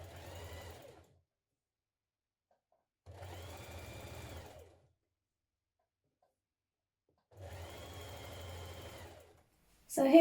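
A sewing machine stitches a small double-fold hem on a nightgown in three separate runs, each a steady whirring burst of about a second or more, with quiet pauses between and a sudden loud noise at the end.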